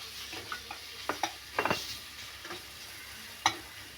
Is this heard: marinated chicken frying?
yes